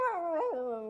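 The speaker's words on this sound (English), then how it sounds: "Dear me, it's a dog." A dog gives a short, clear howl in an animated children's TV special, a single wavering cry that rises and dips in pitch, close and alone.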